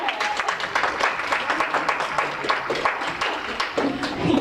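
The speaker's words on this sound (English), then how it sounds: "So give yourselves a round of applause for that." A convention audience at a Mystery Kids panel gives a round of applause, dense continuous clapping from many hands filling the room at steady volume, with a few voices mixed in.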